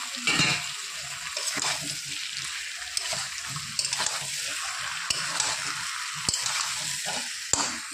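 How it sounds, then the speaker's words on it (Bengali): Spice paste of ginger, garlic and green chili frying with lightly fried potatoes and eggplant in a pan, a steady close sizzle with soft stirring scrapes and a few sharp clicks, no talking. "আলু আর বেগুন হালকা ভেজে নিয়েছি, এবার দিয়ে দেবো মশলা, আদা, রসুন আর কাঁচা লঙ্কা বাটা।"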